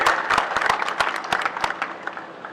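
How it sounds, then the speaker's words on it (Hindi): Loud applause from a crowd at a political rally welcoming a speaker on stage, with sharp, close individual claps over a dense bed of clapping that tapers off toward the end. "ऐसे हमारे नरेंद्र शर्मा जी, इनका जोरदार तालियों से स्वागत कीजिए।"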